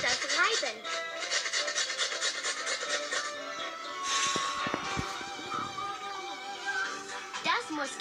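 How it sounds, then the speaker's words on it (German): Ingredients rubbed over a grater in a Masha and the Bear pizzeria video game, repeated scratchy rasping strokes mixed with game music and chimes, with a voice speaking over part of it. "Es ist Zeit, wir müssen das reiben."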